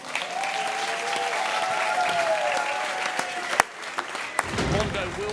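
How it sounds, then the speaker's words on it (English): A large crowd at the World Athletics Awards 2025 in Budapest applauds and cheers Mondo Duplantis, dense sustained clapping filling the hall, with a voice briefly audible and a few sharp knocks before the ovation thins. "The crowd are on their feet. They're roaring him on."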